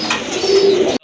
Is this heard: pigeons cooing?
yes